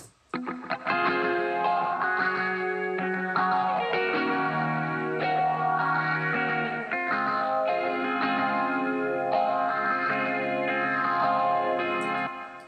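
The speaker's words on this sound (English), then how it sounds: "there's the chorus pedal that I use, which is the Juliana by Walrus Audio" Electric guitar plays sustained chords through a Walrus Audio Julianna chorus pedal, giving a shimmering, warbling, wide tone that rings continuously with echo and slight grit, loud and with no voices.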